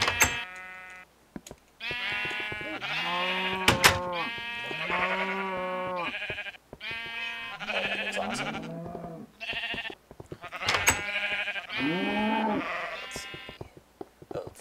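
Minecraft sheep bleat repeatedly, several wavering calls one after another with short gaps, fairly close and loud, with no talking.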